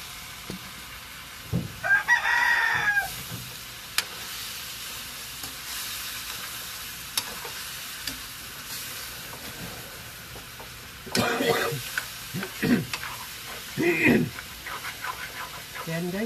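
Chicken sizzles and crackles steadily as it sautés in a hot pan for tinola, with occasional stirring clatter and a voice speaking briefly over it.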